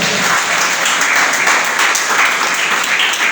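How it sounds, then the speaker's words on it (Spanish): A congregation at a Spanish-language church service breaks into steady, dense applause, a continuous wash of many hands clapping with no talk over it. "Denle un aplauso al Señor"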